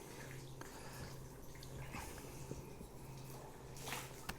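Water dripping and trickling from a freshly rinsed wolf pelt as it is lifted out of water, a steady soft patter with scattered drips over a low background hum.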